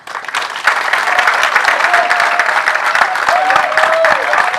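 Applause for Georges Mokuna at a necropolis inauguration ceremony honouring him, a modest crowd clapping that starts after a brief pause and stays steady and fairly loud, with faint tones underneath.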